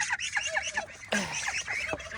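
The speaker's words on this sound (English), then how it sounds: "Birds are so loud in the morning" Early-morning birds, likely fowl, squawk and call loudly and repeatedly in a steady outdoor chorus close by, with no talking.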